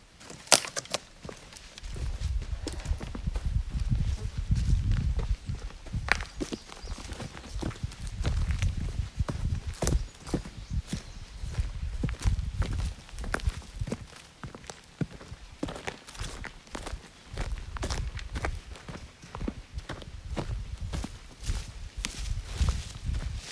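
Footsteps walk downrange on an outdoor shooting range after a 10-shot airgun group, a steady irregular crunch of steps close by with occasional louder thumps, running continuously throughout.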